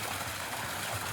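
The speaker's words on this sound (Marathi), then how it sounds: "तर गाईज पाणी चालू झालंय." Water pouring steadily from a farmhouse tap or pump outlet, a continuous soft rushing and trickling at moderate distance with no speech over it.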